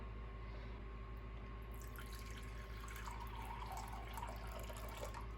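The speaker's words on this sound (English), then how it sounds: "we're going to add 315 grams of water" Water pours into a bowl for einkorn sourdough bread dough, a faint trickle and splash rising over a steady low hum of kitchen background noise.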